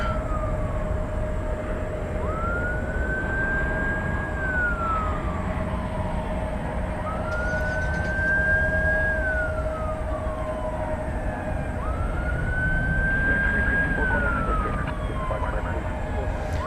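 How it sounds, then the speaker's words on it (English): Emergency vehicle sirens wail in repeating rising-and-falling sweeps over a constant low rumble of traffic or engines, moderately distant. "You might hear the sirens in the background."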